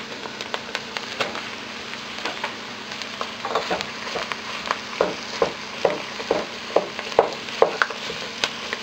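Ground beef frying in a pan with softened onion, a continuous crackling sizzle with a run of regular stirring taps and scrapes growing more frequent toward the end, heard up close without speech.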